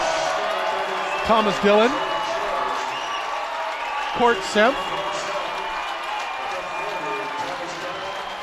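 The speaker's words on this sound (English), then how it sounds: "a warm round of applause not only for the new players on the floor, but for those going off who had a wonderful game" A crowd at a high school varsity boys basketball playoff game, Anacortes against Liberty, applauds as substitutes come onto and leave the floor, a steady, broad patter of clapping under an announcer's voice.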